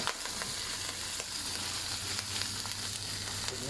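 Curry ingredients dry-roasting in oil for a Shan-style curry, a continuous dense crackle and sizzle with scattered spitting pops, close and steady with no talk.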